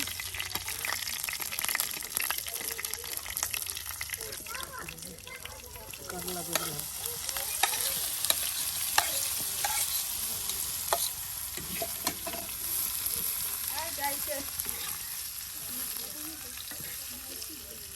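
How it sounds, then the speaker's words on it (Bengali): Garlic fries in oil with a constant crackling sizzle, punctuated by stirring scrapes and faint voices murmuring in the background. "দেখুন রসুনটা একদম তেলে ভাজি করে নেওয়া হচ্ছে"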